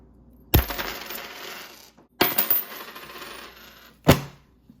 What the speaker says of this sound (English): show you this awesome comic book after the coins drop